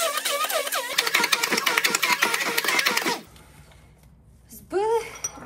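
An electric mixer whirs and rattles loudly for about three seconds while whipping a creamy grape dessert mixture with sugar, vanilla and cream, then cuts off, leaving quiet room tone and a brief voice.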